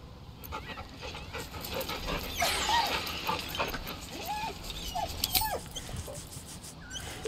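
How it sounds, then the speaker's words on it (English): A dog in the Baldur's Gate 3 video game whimpers nervously, with soft panting and several high, whiny cries scattered over a murmuring background. "The dog whimpers nervously, as if to urge you on."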